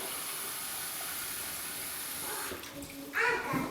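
Warm water is poured steadily into masa harina while corn tortilla dough is mixed, a continuous soft hissing trickle that shifts near the end into brief splashing and stirring sounds, with no talking.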